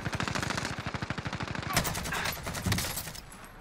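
Rapid automatic gunfire in Call of Duty: Warzone, a fast even burst of shots for over a second, then heavier mixed firing and impacts, loud and close with no talk over it.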